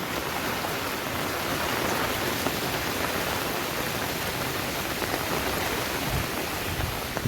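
Steady, loud rushing of floodwater after heavy rain fills the whole stretch, a dense continuous wash with no pauses and no voices.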